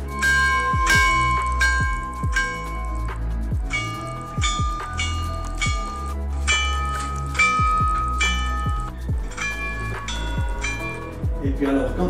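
Old railway station signal bells, each with a different tone for one direction, ring repeatedly in overlapping clusters, their tones sustaining and fading, with steady mechanical background noise throughout.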